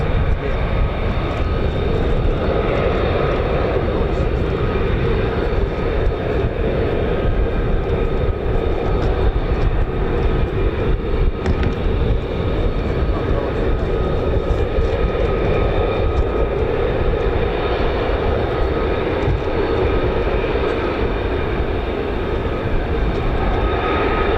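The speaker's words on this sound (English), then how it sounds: "The F-35A" An F-35A fighter jet climbs out at RAF Lakenheath, a continuous loud, rumbling engine roar that holds steady throughout without talk.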